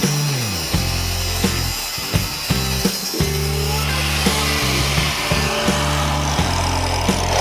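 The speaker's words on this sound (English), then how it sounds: "I will need to grind it out because I can't get the bolt out otherwise." Angle grinder cutting out a broken bolt on a Ferris zero-turn mower on a farm, a loud continuous whine that dips and surges in repeated bursts as the disc bites into the metal, with no talking.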